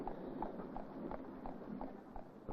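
Hooves of a horse pulling a seaside tram clip-clopping at an even walking rhythm, about eight soft steps, faint and steady.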